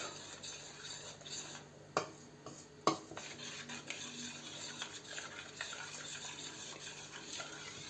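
Potato starch being stirred into cold water in a bowl, with soft swishing and two sharp clinks of a utensil against the bowl amid continuous running-water noise.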